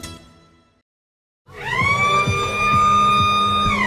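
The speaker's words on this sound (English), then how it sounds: "And there goes the siren." A loud, long siren blast at a country football ground starts abruptly after a brief silence and holds steady, with a few low thumps underneath.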